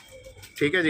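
Purebred Punjabi Malwai pigeons coo nearby, a soft cooing phrase rising over a short spoken remark from a man.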